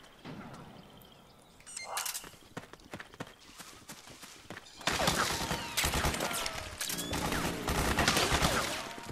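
Gunfire and clanking mechanical battle noise in the video game Metal Gear Solid 4, scattered shots early, then a loud, dense barrage of rapid fire and metallic clatter.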